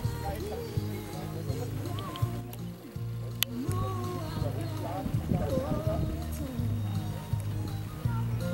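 Horses walk at a walk-and-trot pleasure show, hooves clip-clopping steadily on the ground at moderate distance, with a voice over a loudspeaker and background chatter mixed in.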